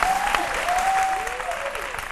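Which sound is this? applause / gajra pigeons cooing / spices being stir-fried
applause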